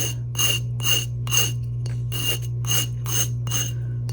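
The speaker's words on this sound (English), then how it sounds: "Let me grab my nail file." A nail file rasps against the hard edge of a resincrete coaster in short, regular strokes, about eight even scrapes over a steady low hum.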